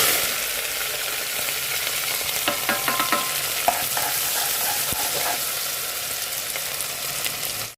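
Onions, green chillies and curry leaves fry in hot oil with mustard seeds for a Telugu boti curry, giving a steady, close crackling sizzle with sharper pops in the middle and no talk.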